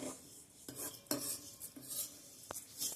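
Dal roasting in oil in a pan for a spicy Maharashtrian ghuta, stirred with a metal spoon: scraping strokes and several sharp clinks against the pan over a soft, steady frying hiss, close up and with no talking.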